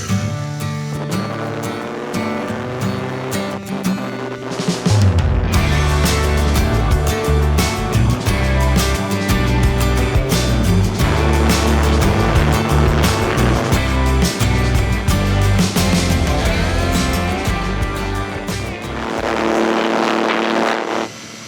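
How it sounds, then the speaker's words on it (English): A light aircraft engine comes through a radio receiver at takeoff as a loud, steady droning roar with a layered whine. It starts abruptly after a quiet opening and holds until a brief easing near the end. "Obviously picking up a lot of engine noise."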